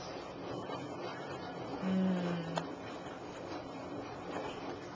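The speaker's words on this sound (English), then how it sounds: "It's on the rinse cycle." A washing machine running its rinse cycle, a quiet, steady mechanical churn with a brief low tone partway through.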